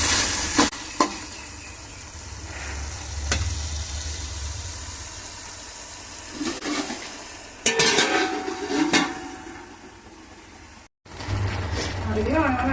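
Tomatoes and bone-in and boneless chicken sauté in a pot for biryani: a loud, steady sizzle with repeated scraping of a stirring spoon, faint voices in the background and a brief gap near the end.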